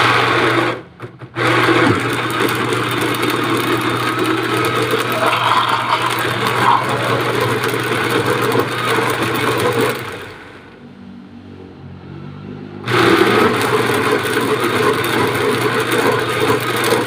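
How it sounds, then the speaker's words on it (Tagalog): A blender blending bugnay berries gives a loud, steady motor whir running almost nonstop, pausing for a few seconds near the end before starting up again at full strength. "Saka po natin i-blender."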